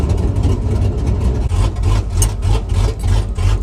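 A Camaro ZL1 muscle car engine idles with a lumpy, pulsing low rumble, steady and close, no talking.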